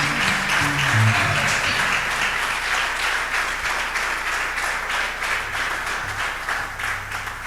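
A Pentecostal church congregation claps together during an evening revival service, a steady, dense round of applause filling the room from start to finish, with a low murmur of voices under it.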